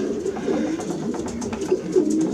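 Several pigeons coo close by in a loft, overlapping soft throaty calls repeating in a low, rolling rhythm indoors.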